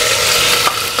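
Crab roasting in ghee as spices are added, a loud, close, continuous sizzle with a faint stirring scrape near the end.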